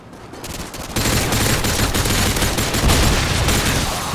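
Sustained automatic gunfire from the player in Call of Duty: Modern Warfare 2, a loud, dense, continuous burst that begins abruptly after a short quieter lead-in and keeps hammering without pause.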